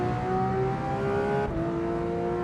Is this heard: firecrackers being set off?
no